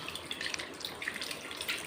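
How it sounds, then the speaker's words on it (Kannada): Water poured into a pressure cooker holding cooked dal, a steady splashing trickle running close up for about two seconds with no voices. "ಕುಕ್ಕರಿಗೆ ಸ್ವಲ್ಪ ನೀರು ಹಾಕಿ ನೀರು ಕೂಡ ಸೇರಿಸ್ಕೊಂಡೆ"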